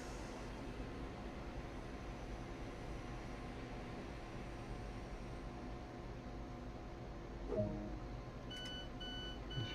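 Warning beeps from train doors in Train Sim World, on a Leipzig suburban rapid-transit run: a quick series of electronic tones near the end, over a constant low rumble of the train.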